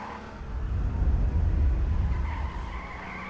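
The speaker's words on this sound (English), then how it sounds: "Did you guys hear a car?" A car in H1Z1: King of the Kill roars past with a brief tire skid, the engine swelling then easing off, no talking.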